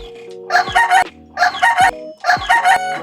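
A rooster crows three times in quick succession, each call loud, close and evenly spaced, with a short pause between them.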